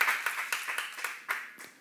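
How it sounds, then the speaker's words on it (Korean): A church congregation in a worship service claps in a loose rhythm, several sharp hand claps in quick succession, fairly close and moderately loud with no talk over them. "박수를 3개 쳐봐"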